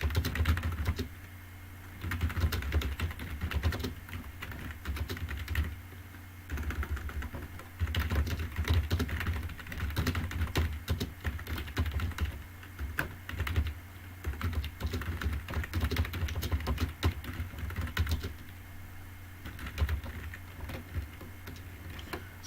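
Computer keyboard typing while writing code, a long run of quick, irregular key clicks in bursts with brief pauses, close and fairly soft, with no voices.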